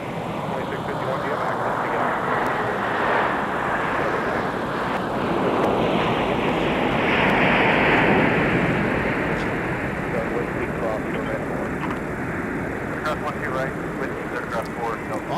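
A Delta airliner at snowy MSP airport in winter makes a steady, broad jet roar that swells and eases slightly, with wind buffeting the microphone throughout.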